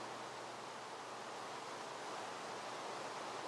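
Continuous soft rushing water while a Minecraft character bobs and swims across a stretch of water, an even, quiet wash with no speech.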